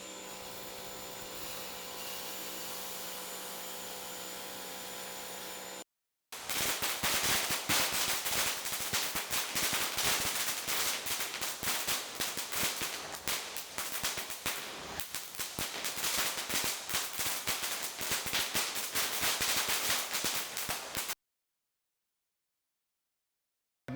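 Consumer fireworks go off outdoors in a dense, loud barrage of rapid cracks and pops lasting about fifteen seconds. A steady hum plays before the barrage, and silence follows it.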